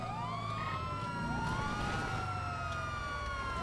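Police car siren in GTA 5, during a highway patrol roleplay near Sandy Shores in the Grand Senora Desert, wails steadily and loud, several sweeping tones overlapping with a low vehicle engine rumble underneath, no talking.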